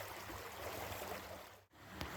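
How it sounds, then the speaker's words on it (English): A mountain creek with the remains of an old dam runs steadily, a soft continuous wash and trickle with a brief dip near the end, alone and moderately quiet. "Just the sound of the creek is just beautiful today."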